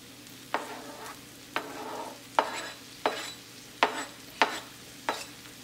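Fish fry masala with tomatoes sautéing in a pan, stirred in a steady rhythm of about seven sharp scrapes over a soft continuous sizzle, close and moderately quiet with no talking.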